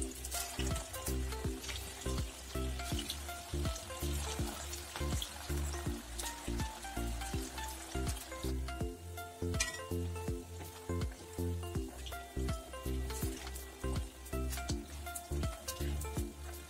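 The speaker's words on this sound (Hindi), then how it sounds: "सेकेंड बैच को भी इसी तरीके से फ्राई कर लेंगे।" A second batch of veg Manchurian balls deep-fries in hot oil, giving a continuous bubbling sizzle with a pulsing, rhythmic crackle, steady and close at moderate level, no voices.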